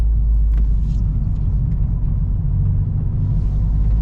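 Toyota GR Yaris on the TS Takata circuit, its engine droning loud and steady with a deep rumble that swells slightly under throttle, with no talk.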